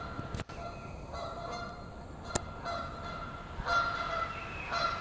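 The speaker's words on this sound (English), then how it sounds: "There's geese down there just arguing." Several geese honk back and forth in loud, squabbling bursts, with a few sharp clicks in between, fairly close by.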